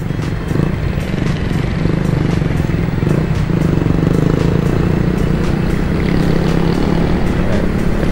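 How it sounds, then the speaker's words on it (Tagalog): A motorcycle rumbles and rattles loudly up close while riding along EDSA, its engine drone constant with clattering overtones and a steady wind-like roar. "Grabe yung kalampag ng motor, ano?"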